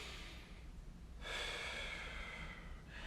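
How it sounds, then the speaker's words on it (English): A single deep breath drawn in through the nose into the stomach, a close airy rush that builds then eases, heard alone against a quiet room. "nice deep breath into the stomach"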